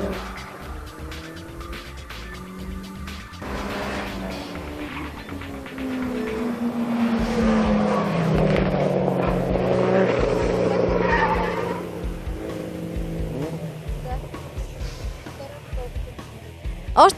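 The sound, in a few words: race cars driving on a race track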